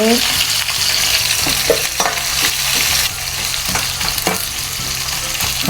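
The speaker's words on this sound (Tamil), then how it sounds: "மிச்ச வெங்காயத்தெல்லாம் சேர்த்துட்டு வெங்காயத்தை கொஞ்சம் வதக்கிட்டு" Onions sauté in a hot pan for a Jaffna-style chicken curry, giving a loud, steady sizzle and fry close up, broken by the scrape and clatter of a spoon stirring every second or so.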